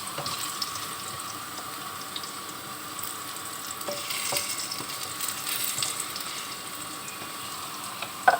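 Carrot pieces fry in a pan, giving a soft, steady sizzle close by with faint stirring scrapes and no talking over it.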